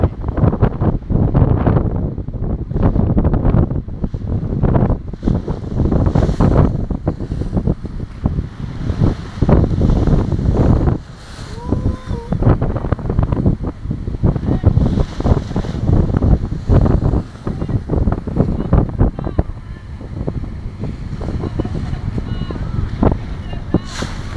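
Strong typhoon wind buffets the microphone in loud, continuous gusts at the Navotas coast, with rushing noise and a boat or water sounds beneath, and voices talking intermittently.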